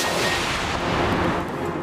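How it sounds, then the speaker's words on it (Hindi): Fireworks boom in a dense, continuous rumbling barrage at a Muslim League (N) workers' celebration of an NA-133 election win, loud and unbroken with no voices. "मुस्लिम लीग नून के कारकुनों का जश्न, भंगड़े और आतिशबाजी,"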